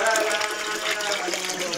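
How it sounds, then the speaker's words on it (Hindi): Water pours steadily from a cow-mouth spout at the Siddh Baba temple in a dense jungle at Khajuri, a continuous close rushing splash with no pauses. "ये गौमुखी से पानी निकल रहा"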